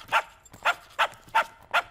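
A dog barks five times in a steady, evenly spaced run, each bark sharp, loud and close, with nothing else heard between them.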